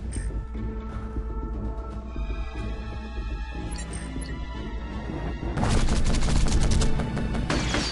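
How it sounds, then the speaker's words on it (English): Rapid video game gunfire and crashes in the strategy game Field Commander, with dense bursts of shots that grow louder and more continuous toward the end, alone without talk. "he would shoot at the infantry, because that's critical"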